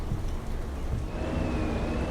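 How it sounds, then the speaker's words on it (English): Steady rain falls in a dense, even hiss during a truck drive, with a faint low engine rumble underneath and no talking. "Yep, it has started raining"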